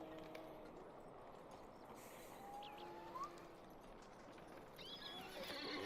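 A horse whinnies from a steed in the online game LOTRO, with a rising neigh partway through over a steady game ambience of faint clip-clop and background hiss.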